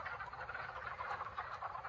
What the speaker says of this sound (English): you can just hear all the male wood frogs calling